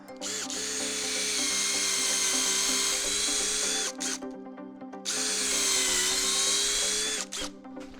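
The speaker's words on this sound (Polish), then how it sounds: "i nawiercam." A power drill bores pilot holes in wood for screws on a terrace balustrade, running in two long, loud whining bursts separated by a short pause, with no talking.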